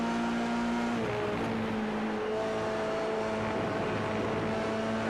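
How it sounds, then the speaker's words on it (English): F3 cars in a sim racing video game at Hockenheimring roar with steady high-pitched engine tones that shift as they ride over the curbs, continuous and fairly loud. "I love the sound of these cars when they hit the curbs."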